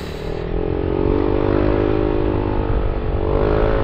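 A motorcycle engine with an aftermarket JVT exhaust idles and revs with a deep, throaty exhaust rumble, steady and close, rising slightly in pitch.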